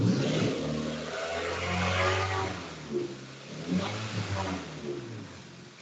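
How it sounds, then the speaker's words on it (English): A car with its check engine light on revs up, the engine note swelling and then settling back through a couple of smaller blips, close and steady with no talk over it. "Why don't you rev it up a little bit and see what it sounds like too?"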